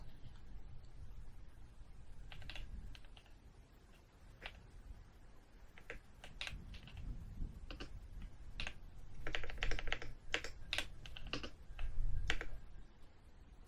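Keyboard typing in a close, intimate ASMR setting: bursts of crisp, rapid key clicks and clacks in uneven runs, some loud and dense, over a quiet background with no speech.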